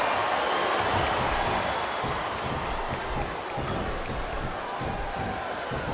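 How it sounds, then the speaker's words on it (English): A capacity wrestling arena crowd in WWE Smackdown vs Raw 2007 roars as a dense, continuous wash of cheering and clapping that holds at a steady, loud level throughout. "This capacity crowd is making their opinions known tonight."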